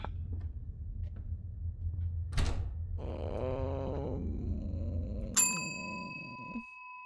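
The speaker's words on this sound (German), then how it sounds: "Wir haben das zweite Mal die Glocke geläutet." A bell in a horror video game rings out twice, a sharp metallic clang followed by a bright ding whose tone hangs and fades, with a low creaking groan and rumbling between strikes and no voices.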